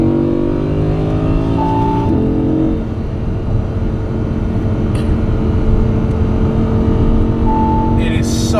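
An Audi R8 Spyder pulls hard on the road, its engine droning loudly with rising, whining harmonics that climb and shift as the revs build, with steady wind and road roar underneath throughout.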